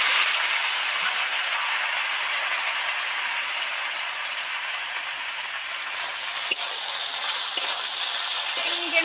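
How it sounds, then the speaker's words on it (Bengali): Okra deep-frying in white oil in a wok, a steady, dense sizzle that stays even throughout, with a few faint clinks near the end. "এবার কড়াতে একটু সাদা তেল দিয়ে দেব। তেলের মধ্যে ঢেঁড়স কটা উঠিয়ে দিলাম।"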